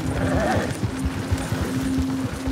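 A horse's hooves clip-clop at a steady, rhythmic trot in the Red Dead Redemption 2 video game, fairly close, over a continuous bed of game ambience and a low sustained tone.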